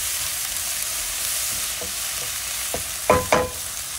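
Potato curry filling for samosas, with ginger-garlic paste and frozen mint, stirred in a pan over a steady sizzle, with a few louder spoon scrapes near the end; no talking.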